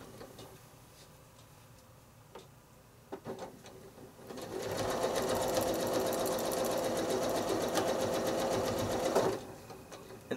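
A sewing machine stitches zigzags on a beginner Drunkard's Path quilt. It starts with a few sparse ticks, then runs as a steady close rapid whir for about five seconds before stopping, with no speech.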